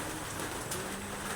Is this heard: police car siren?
no